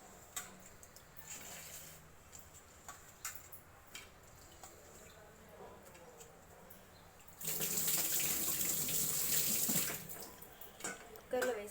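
Field bean seeds are rinsed under a running kitchen tap, with soft splashing and drips that swell into a loud, rushing stream of water for a few seconds near the end, then fall back to quieter splashes.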